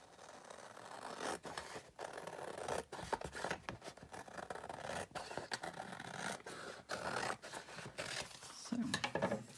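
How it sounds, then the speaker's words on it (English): Scissors cut paper for a homemade diamond painting chart, giving repeated crisp snips and scraping rubs close to the microphone in an uneven rhythm, with quiet talking underneath. "I'm just going to use scissors."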